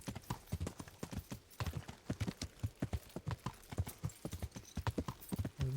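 Steady, rapid clip-clop of horse hooves galloping close by in the video game Kingdom Come: Deliverance, continuous throughout with a brief whinny-like sound near the end.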